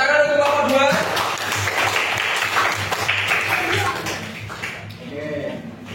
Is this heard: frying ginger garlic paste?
no